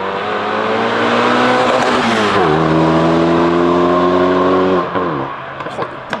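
A loud, tuned Renault Mégane RS revs hard, heard from outside. Its engine note climbs, drops sharply at a gear change and climbs again, then breaks off near the end with a few cracks as the sound trails away.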